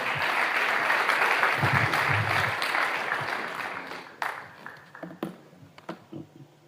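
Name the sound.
congregation applauding and cheering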